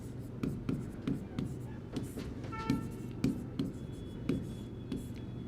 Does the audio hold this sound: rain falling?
no